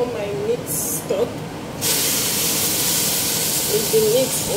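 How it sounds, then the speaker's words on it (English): Meat stock with meat pours into a hot pot of fried egusi, setting off a loud, sustained steamy hiss that continues to the end, with brief talk over it. "I'll pour my meat stock"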